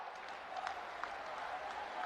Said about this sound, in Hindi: मैं चाहूंगी सभी के लिए आप एक बार जोरदार तालियां बजा दें